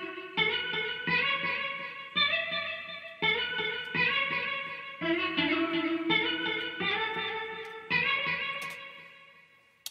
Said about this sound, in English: I just took a stock guitar sound from Logic, added like guitar rig, some delay, some EQ